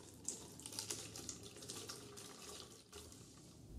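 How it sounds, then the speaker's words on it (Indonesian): Boiled drinking water running over ingredients during rinsing, a soft continuous tap-like splash and trickle, close and faint, with no talking. "Selanjutnya bilas menggunakan air matang atau air minum."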